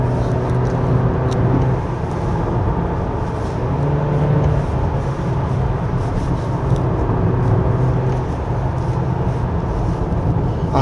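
A 2024 Honda Accord 1.5 Turbo, running in economy mode on a winding road, gives a steady engine and road drone from inside the cabin. The hum rises and falls gently and stays loud throughout, with no voices.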